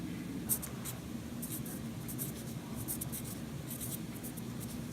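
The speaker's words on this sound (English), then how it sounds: "let's write on the paper here" Pen scratching on paper while a shopping list is written, faint repeated strokes in short bursts over a low background hum, with no speech.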